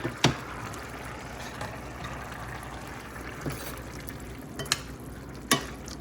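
A vegetable curry sizzles softly as tomatoes are stirred in, with a low steady frying hiss and a few sharp clinks of a spoon against the pan scattered throughout, and no talking.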